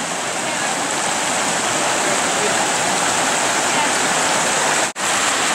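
Mountain stream water rushing steadily near the Indian Falls route below Mt. Marcy, a loud, continuous broadband roar with one brief dropout near the end.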